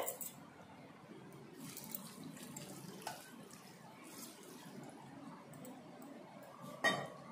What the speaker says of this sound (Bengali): চাউমিনটা যাতে ঠান্ডা হয়ে যায় আর কোনো অংশ যাতে দলা পাকিয়ে না থাকে তার জন্য হাতের সাহায্যে এইভাবে ধুয়ে নিতে হবে